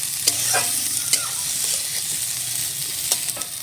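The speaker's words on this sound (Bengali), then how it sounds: "ধনে গুঁড়ি, লঙ্কা গুঁড়ি, সব দিয়ে একটু সবজিটাকে ভেজে নিচ্ছি।" Vegetables frying in hot oil with ground coriander and chili powder for a village khichuri, with a steady close sizzle and a few sharp clinks and scrapes of a stirring spoon against the pan.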